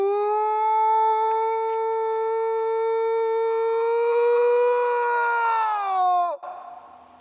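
A person imitates a Bigfoot howl outdoors on a hike at High Point in Sussex County: one long, loud, tonal wail held steady for about six seconds before it bends downward and breaks off, leaving faint outdoor noise.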